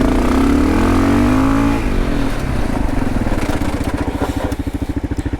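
A motorcycle on Bridgestone AX41 adventure tyres brakes hard on loose gravelly dirt. The engine is loud and close, with a droning tone that drops as it slows, then settles into a pulsing idle.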